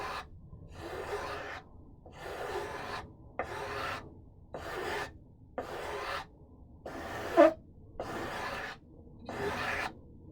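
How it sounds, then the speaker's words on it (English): A wooden part is sanded by hand in steady back-and-forth strokes, about nine even bursts of rasping friction separated by short pauses, close and moderately loud, with no talking. "I got to sand some in."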